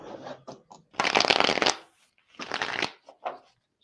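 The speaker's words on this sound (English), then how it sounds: "I'm going to pull some cards for you" Tarot cards are shuffled in several quick riffling bursts with short pauses between them, close and crisp.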